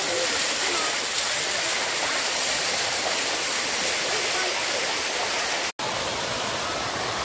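The fourth tier of Bua Tong waterfall in Mae Taeng, Chiang Mai, gives a steady, loud rush of falling water that fills the whole clip with broad hiss, with one brief cut near the end.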